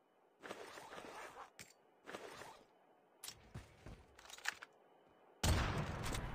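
Kilo Bolt-Action sniper rifle with a sniper expert mode firing in COD Mobile, a few separate shots with brief rattling gaps, then a louder sharp burst near the end, no talking.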